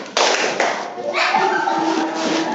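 Schoolchildren in an Indonesian classroom perform the "tepuk pagi" clapping routine, a sharp opening clap followed by a short run of rhythmic claps and taps with children's voices chanting over it, close and fairly loud.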